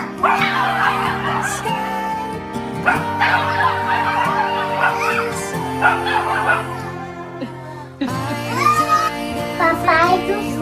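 A dog barks and whimpers close by beside a baby at home, the yips mixed with musical background sounds and light laughter throughout.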